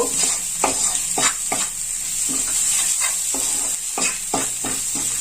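Masala for prawn chops stirred and fried in a pan, with a steady sizzle running throughout and repeated scraping strokes of the spoon at irregular intervals, close and alone with no talk.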